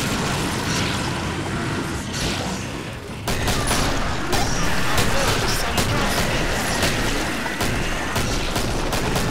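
Dense gunfire in the game Killing Floor, rapid overlapping shots and booms crackling over a loud, constant battle din, with someone talking through part of it.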